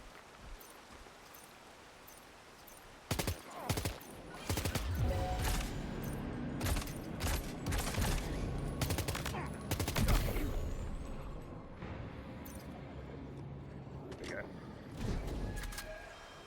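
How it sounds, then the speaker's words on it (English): Bursts of gunfire in the video game Death Stranding 2 crack out repeatedly over a rushing, noisy background, loud and close, with a voice talking over parts of it. "enemy heard a gunshot"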